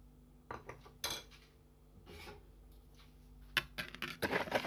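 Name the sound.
mixing ingredients for cinnamon roll dough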